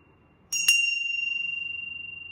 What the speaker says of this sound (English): let's go ahead and clear the airways with an energetic vibration from this bell